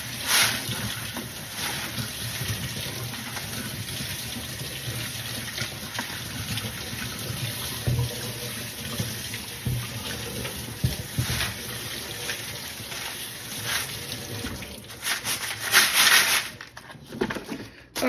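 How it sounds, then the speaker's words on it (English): Small tumbled beach rocks are rinsed under running tap water, a steady close rush of flowing water with occasional clatter and splashing as the stones are shaken, growing busier toward the end. "Let's give them a good rinse."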